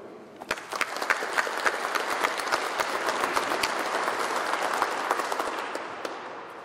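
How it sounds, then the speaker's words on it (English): Loud, sustained audience applause fills a graduation ceremony for a class of waterways conservation officers. Dense clapping holds from start to finish with a few sharp claps standing out. "I'd ask you to give a round of applause to these fine leaders"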